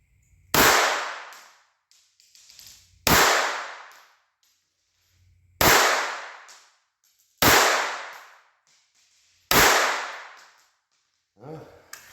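Five sharp reports from a Walther .22 pistol firing CCI Mini Mag rounds, evenly spaced about two seconds apart, each loud and close with a short ringing decay, and brief quieter handling noises between them.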